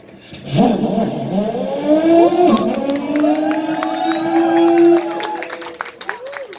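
A man vocally imitates a 750cc American motorcycle pulling away from a traffic light, his voice rising and sliding like an engine revving up through the gears, loud and close, with crowd cheering and applause around it.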